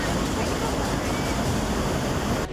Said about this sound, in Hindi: नासिक में लगातार हो रही बारिश के कारण गोदावरी नदी उफान पर है